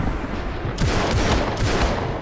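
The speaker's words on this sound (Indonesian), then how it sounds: "Tepat saat Walker sudah sadar, tembak-tembakan pun terjadi antara Vincent CS dan kelompok Triad" Rapid bursts of gunfire crack out in quick succession, loud and dense, like an exchange of shots.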